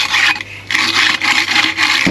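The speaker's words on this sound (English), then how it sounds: "I'm just trying to scrape it like that" Close, loud scraping of a damp interior wall surface during rising damp repair: several rough, rasping strokes in steady succession with short gaps between them, no voices.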